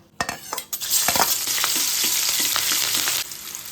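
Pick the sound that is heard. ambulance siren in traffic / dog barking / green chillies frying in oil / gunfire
green chillies frying in oil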